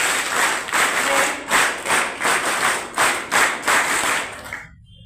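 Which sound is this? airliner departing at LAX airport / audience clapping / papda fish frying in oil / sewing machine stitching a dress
audience clapping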